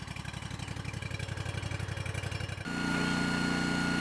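A log splitter's small gas engine idles with a rapid, even chugging pulse, then its speed is raised partway through into a steadier, louder higher-pitched drone, close and with no voices.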